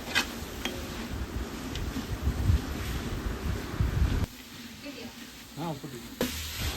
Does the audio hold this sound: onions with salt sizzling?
yes